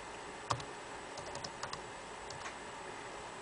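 Faint keystrokes on a Mac keyboard as a password is entered, a few soft scattered clicks over a steady background hiss.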